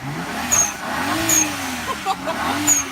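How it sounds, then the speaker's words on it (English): HKS SQV blow-off valve on a BMW 535i, heard as several short, sharp high chirps at spaced intervals over a steady, revving car engine drone. "he put an HKS blow-off valve, an SQV blow-off valve onto his car"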